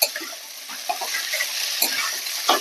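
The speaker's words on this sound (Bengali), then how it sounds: "এবার আমি এর ভিতর মাশরুমটা দিয়ে দেবো" Mushrooms sauté in a spice masala in a pan, with a steady sizzle under scraping stirs and occasional clinks of the utensil against the pan.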